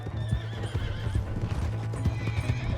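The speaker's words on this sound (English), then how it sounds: "Hey, that's my horse!" Horse hooves clip-clop in a steady rhythm while a horse neighs and whinnies in the Red Dead Redemption 2 game world, with a continuous low hum underneath and no talk.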